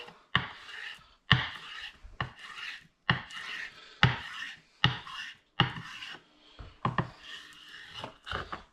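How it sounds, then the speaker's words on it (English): A knife slices fresh squid into very thin strips on a board, a steady series of about a dozen short, crisp cuts, close and clear, with no talking. "and then cut some really thin strips off"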